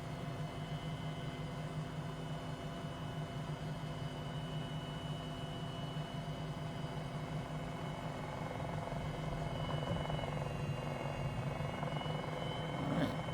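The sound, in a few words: MD500E helicopter lifting off, MSFS2020 video game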